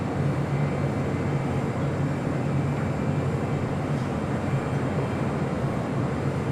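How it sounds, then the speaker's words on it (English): An Asiana Cargo Boeing 747 freighter taxis into the cargo area at LAX, a continuous broad engine rumble and roar with a faint high whine, steady and unbroken at moderate distance. "I'll show you the Asiana Cargo 747 pulling into the cargo area over here"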